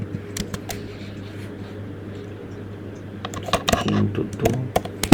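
Someone typing Java code on a computer keyboard, soft irregular key clicks at first, then a denser, louder burst of rapid keystrokes over a faint fan hum.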